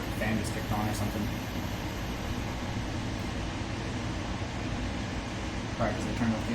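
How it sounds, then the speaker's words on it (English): Steady whirring drone of a microwave oven's cooling fan running continuously in a kitchen, at moderate level with broadband hum, while a person talks over it. "I guess the microwave got too hot or something, so it kicked on automatically."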